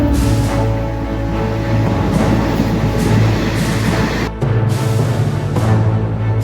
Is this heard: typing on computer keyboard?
no